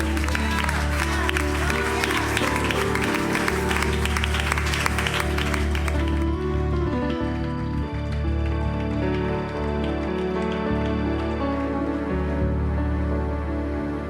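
A church congregation applauds loudly for about six seconds over music, the clapping then dropping away while the music carries on.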